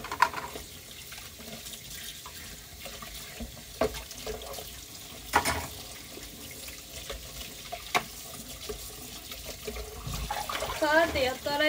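Tap water runs into a kitchen sink while dishes are washed, a continuous splashing flow with occasional clinks, and a voice speaks faintly underneath.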